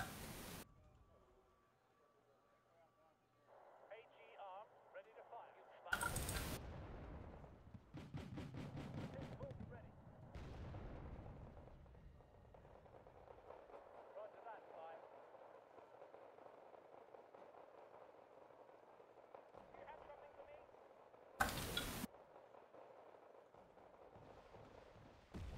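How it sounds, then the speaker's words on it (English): Artillery fire in the real-time strategy game Wargame: Red Dragon, muffled distant booms and rumbling impacts scattered under steady battlefield noise, with a few sharper bursts standing out. "They're going really heavy with their artillery."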